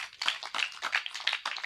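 A church congregation clapping together at a birthday prayer gathering, quick rhythmic claps from many people in a steady beat, fairly close and without talk.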